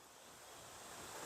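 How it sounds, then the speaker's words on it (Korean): Steady rushing noise of a mountain valley stream, soft and continuous, with no voices or other distinct sounds. "계곡 물소리 들리고"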